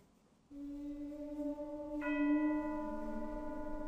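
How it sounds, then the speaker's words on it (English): Sampled orchestral gong from a Hollywood percussion library, struck once after brief silence, then a long ringing metallic tone swelling with a brighter shimmer joining midway, sustained and fairly quiet. "The beginning of the track was created using the gong effects"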